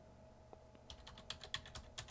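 Fingers tapping out a password on a computer keyboard during a software setup on a Windows 7 PC, a quick run of about a dozen light, close keystrokes in an irregular rhythm after a short quiet lead-in.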